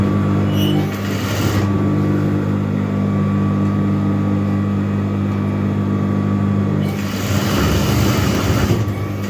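A sewing machine stitching fabric for a half welt pocket in dressmaking, a steady loud mechanical whirr running continuously, with brief changes at the start and end.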